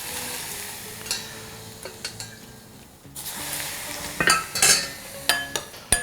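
Hot oil poured over minced garlic, scallion bits and small chili peppers, giving a broad sizzle with scattered clinks of utensils and bowl, rising to sharper crackling bursts in the second half.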